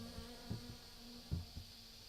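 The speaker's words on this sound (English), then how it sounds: "I personally just get a chill every single time this deep freaking noise from the wasps comes up" Low, deep buzzing of wasps in the video game My Summer Car, a faint steady drone with a few soft irregular thumps and pulses.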